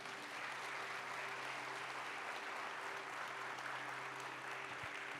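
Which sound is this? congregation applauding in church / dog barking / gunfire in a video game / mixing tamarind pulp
congregation applauding in church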